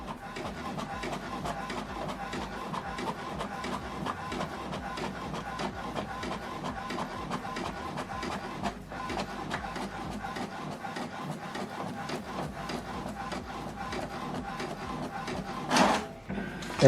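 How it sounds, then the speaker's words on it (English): An HP Deskjet printer runs a copy job, giving a continuous whirring, rubbing mechanical drone with fine rhythmic ticking for about seventeen seconds, close and steady, with a brief louder swell near the end. "So this is how to copy a document from this printer."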